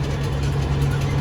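Tractor pulling a disc mower while cutting first-cutting hay in a rough 4-acre field, a steady low engine drone with a constant hum, close and continuous.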